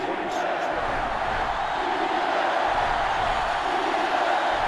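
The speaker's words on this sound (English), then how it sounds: "This sellout crowd is really making a difference now as these guys can't even call the play." Loud, steady roar of a sellout stadium crowd in the NCAA Football 2005 video game, a Virginia Tech versus Michigan matchup, holding a dense, continuous din with scattered whoops and cheers throughout.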